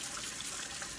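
Water runs steadily from a tap as surgical forceps are rinsed at a sink, a soft continuous hiss and trickle with no talk over it.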